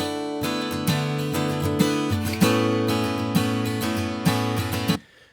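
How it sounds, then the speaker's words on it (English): A single mono acoustic guitar track from a song strums rhythmic chords with bright attacks, close and full, then rings out and stops near the end with no voices. "just a mono acoustic guitar track that sounds like this."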